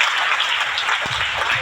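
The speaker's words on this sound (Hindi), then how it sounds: "एक बार जोरदार तालियां" Applause from a seminar audience at a direct-selling motivational event, a dense, continuous burst of clapping that stays loud and even throughout the short stretch.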